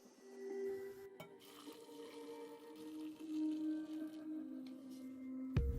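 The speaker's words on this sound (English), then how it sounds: "I will first put all the pieces in an empty pot so that they are distributed in one row, and then immediately pour hot boiling water" Hot boiling water pours into a pot holding pieces of beef hooves, a faint steady gushing and trickling with a sharp clunk at the end.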